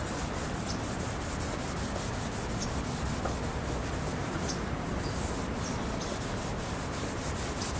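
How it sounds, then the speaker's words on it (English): A towel rubs Turtle Wax headlight restoration compound onto a car headlight in a steady, continuous close-up scrubbing hiss that runs unbroken throughout, with no voices. "Take the compound, add it to the corner of your towel, and wipe"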